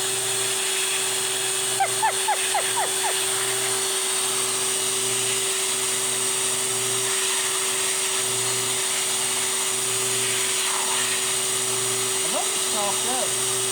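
A vacuum cleaner repurposed to spray paint runs with a constant droning whine throughout, while brief voices come through faintly near the start and end.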